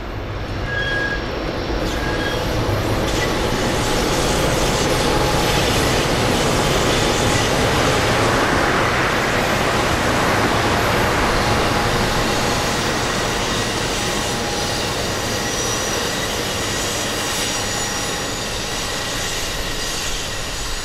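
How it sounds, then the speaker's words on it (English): An Amtrak test train hauled by Siemens Charger locomotives rolls around a curve on Raton Pass, a loud, continuous rumble of wheels on rail with steady clatter and faint squealing throughout. "the test train wraps around the Wooten Curve between Interstate 25 and the Dick Wooten Ranch"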